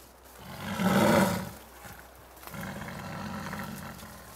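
A Siberian tiger gives a deep, loud roar that swells and fades, then follows it with a second, lower and longer growling rumble close at hand.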